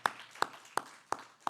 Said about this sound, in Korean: 우리 박수로 환영하겠습니다.